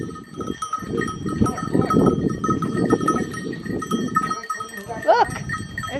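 Goats at a hilltop fort in Jaipur shuffle past, their bells ringing in a steady close jangle while voices talk over them.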